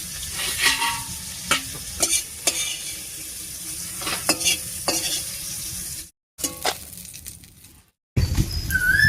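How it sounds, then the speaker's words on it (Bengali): Bitter gourd slices fry in hot oil in a pan, a continuous sizzle punctuated by sharp clinks and scrapes of a spatula against the metal as the pieces are stirred and lifted out, close and without any voices. "এদিকে উচ্ছেটা খুব সুন্দর ভাজা হয়ে গেছে, এবার নামিয়ে নিচ্ছি।"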